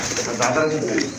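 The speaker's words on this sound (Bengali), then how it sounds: "বিগ সাইজের এক জোড়া কবুতর এটাও কিন্তু রানিং কবুতর" Soft cooing from a pair of large pigeons close by at a pigeon sale, mixed with a voice speaking over it.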